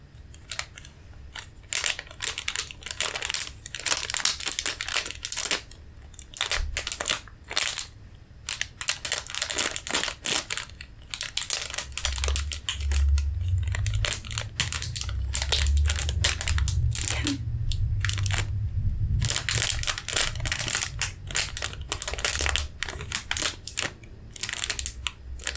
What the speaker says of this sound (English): So we'll start with the crinkling again.